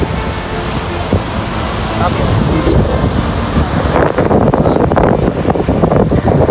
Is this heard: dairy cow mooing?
no